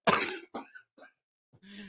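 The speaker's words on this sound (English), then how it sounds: "You got me coughing real quick." Several harsh coughs from a man, close and loud, in short bursts with brief pauses between, followed by a lower throat-clearing rasp at the end.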